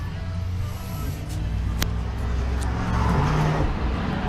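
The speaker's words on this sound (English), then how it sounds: "Apologize for the road noise." Continuous road traffic noise, a steady low engine rumble with passing vehicles humming by, fairly close and persistent throughout.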